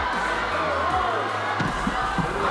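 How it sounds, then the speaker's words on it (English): A crowd cheering at a volleyball match with Japan playing, a broad roar of many voices filling the arena, loud and sustained with a few thuds and shouts inside it. "The crowd go crazy."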